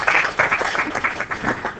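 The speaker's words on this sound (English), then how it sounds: "Clap for her." A small group of students clap in a classroom during a math lesson, a short ragged patter of hands lasting under two seconds, fairly close and uneven.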